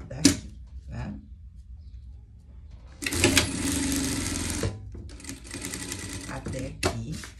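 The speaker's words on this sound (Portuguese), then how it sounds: "Vamos começar a costurar a partir daqui, tá?" Sewing machine stitching a pet life vest, a quick rattling run of stitches in two bursts after a few handling knocks, close and moderately loud, with a person speaking at the start.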